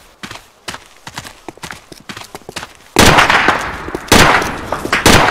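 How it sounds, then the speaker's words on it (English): Gunfire during a SWAT raid in the video game Island Life: sparse sharp cracks at first, then heavy loud bursts of shots with thuds, close and harsh. "Taking fire, taking fire."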